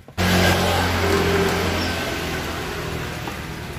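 An old Mitsubishi Colt T120 engine idling smoothly, a steady low hum that starts abruptly and stays even and fairly loud, with no talking.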